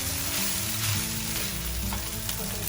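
Vegetables go into chicken rice paste fried rice in a hot pan, with a loud, steady sizzle and faint stirring scrapes throughout, close up and without talk.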